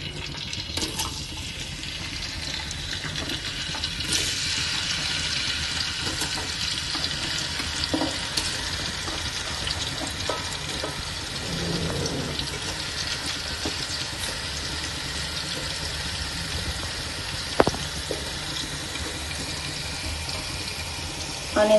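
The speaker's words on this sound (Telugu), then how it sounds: "కొంచెం ఆయిల్ హీట్ అయ్యాక ఆనియన్స్ వేసుకున్నాము." Onions sizzling in hot oil in a pan for a Nellore-style stuffed brinjal curry, a steady close hiss with light crackle running throughout.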